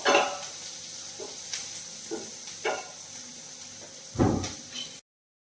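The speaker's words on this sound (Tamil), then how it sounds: "பெரிய வெங்காயத்தை சேர்த்தலாம் சேர்த்து நல்லா வதக்கிக்கலாம் வெங்காயம் வந்து நல்லா வதக்கட்டும்" Sliced large onions sautéing in a pan for egg curry give a steady low sizzle, broken by a handful of spoon-scraping stirs spaced a second or so apart, the last one loudest, with no talking.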